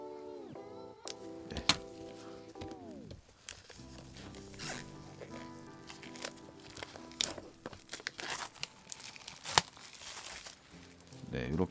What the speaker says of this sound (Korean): 지금 비닐 패킹을 이제 벗기면 어떤 이미지인지 봅시다